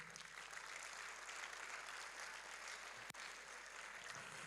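An audience applauds a Vice Chancellor at a university alumni lecture and reunion: steady, even clapping that sounds fairly distant and subdued throughout, with one brief sharp knock near the end.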